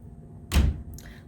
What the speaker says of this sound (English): Gotta shut the door. Shut the door.